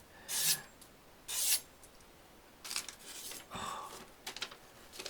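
A knife blade scrapes across a brick in broadband, gritty strokes: two separate sharp passes, then a cluster of rougher rasping strokes, close and fairly quiet with no talk.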